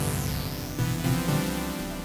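A JX10 synth layered with a bass patch in the Unify plugin: dense, bright sustained chords over a heavy low bass line that shifts pitch, loud and unbroken for about two seconds.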